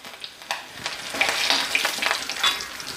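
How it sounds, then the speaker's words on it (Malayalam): Mustard seeds and curry leaves sizzle and crackle loudly in hot coconut oil for an egg curry, a close, continuous frying hiss with rapid scattered pops from the seeds bursting. "കടുക് പൊട്ടിയിട്ട് സ്വല്പം കരിവേപ്പില ചേർത്ത്"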